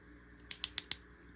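Four crisp, evenly spaced mechanical clicks from a Crescent 3/8-inch ratchet, close and sharp, against a faint low hum.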